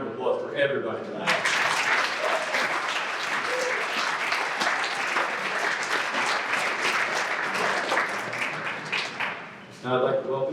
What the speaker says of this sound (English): One more big round of applause for everybody tonight.